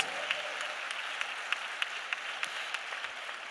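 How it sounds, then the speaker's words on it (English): A live-streamed diaspora forum audience gives a round of applause: a faint, steady wash of clapping with a few sharper individual claps standing out, heard from some distance. "Please give them a big round of applause."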